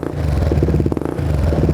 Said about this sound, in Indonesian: Jadi kita dengerin aja suara langsung dari motor lowrider ini.